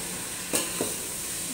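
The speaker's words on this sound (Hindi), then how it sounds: "वो चिकन है ना, भून रहा है" Chicken fries in a pan for pulao, a soft steady sizzle with a couple of brief stirring scrapes near the middle, close and moderately loud with no voices.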